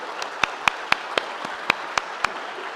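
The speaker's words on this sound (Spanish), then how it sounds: "un aplauso para él" A few slow, sharp, evenly spaced claps ring out one by one, about eight in under three seconds, as a speaker is welcomed to the floor at a gastronomy event; sparse and fairly close, with no talking over them.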